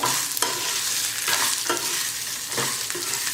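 Chutney ingredients sizzle and rattle as they dry-roast in a hot pan while being stirred, with periodic scraping strokes over a continuous dry crackle.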